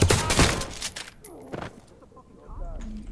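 A burst of rapid gunfire from a police video game rings out loud at the start, then fades into scattered thumps and faint clatter with game voices.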